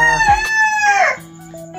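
A fighting rooster crows loudly nearby, one long drawn-out call, followed by soft clucking from other chickens.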